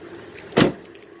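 A car key pulled from the ignition gives one short, loud metallic scrape and clunk in a quiet car interior, followed by faint small clicks.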